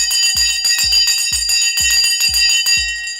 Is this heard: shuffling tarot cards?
no